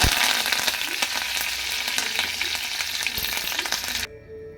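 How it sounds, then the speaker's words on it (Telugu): Curry leaves fry in hot oil that already holds cumin, mustard seeds and urad dal, with the stove switched off. A loud, steady crackling sizzle runs throughout with sharp pops, then cuts off abruptly near the end. "పొయ్యి బంద్ చేసి కరివేపాకు వేసుకోవాలి"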